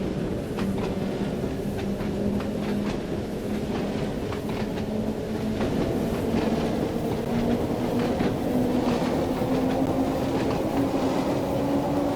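Isle of Wight line train in Train Sim World 2 pulling away and running, a steady loud rumble of wheels on rail with rhythmic clicks and a rising motor tone throughout, no talk.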